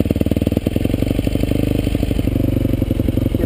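A warm enduro motorcycle engine runs steadily after starting, its close, even rapid firing pulses loud and continuous, with a slight clattering edge and no talk over it.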